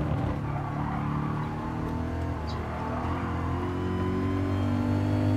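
A 2013 Pagani Huayra in a racing video game, its engine droning and revving steadily with a strong, rising harmonic tone, close and continuous.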